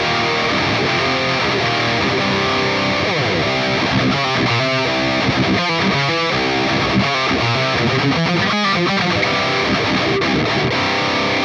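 Heavily distorted, double-tracked metal rhythm guitar through a Line 6 Helix preset built on the Archetype Lead amp model, playing tight, chugging djent-style riffs with rhythmic palm-muted stops, loud and dense throughout with no talking.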